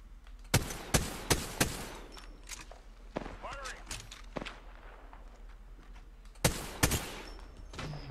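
Gunfire in Apex Legends: sharp, loud shots in a quick cluster of four, then scattered single reports and another pair of blasts later, near and punchy, with faint talk and movement between them.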